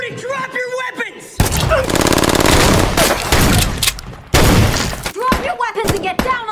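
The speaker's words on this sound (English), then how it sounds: "A fierce shootout erupts between Homeland Security and Billy's crew" A movie shootout between agents and a criminal crew, with loud rapid bursts of automatic gunfire close up in two long volleys. Shouted voices come between the volleys and overlap them.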